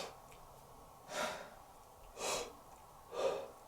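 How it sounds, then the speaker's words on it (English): A person breathing in slowly with an open, relaxed throat, shaping a soft 'whole' sound; three airy inhalations, close and quiet, evenly spaced, with no speech. "you're going to hear the sound whole as I'm breathing in"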